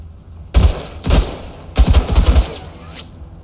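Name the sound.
gunfire in the video game Menace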